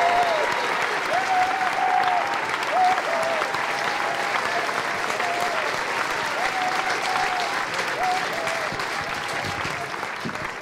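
An audience claps steadily for a singer at a showcase, a dense, sustained wave of applause filling the hall, with faint crowd noise and a few voices beneath it.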